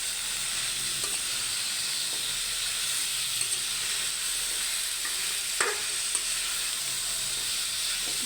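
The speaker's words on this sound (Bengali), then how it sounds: "এই যে ডাঁটা আলুগুলো দিয়ে দেবো এখানে, এটা দিয়েও সুন্দরভাবে কষিয়ে নেব" Drumstick stems and potatoes sauté in fish curry spices with a loud, steady hiss of frying, broken by a few soft stirring scrapes up close.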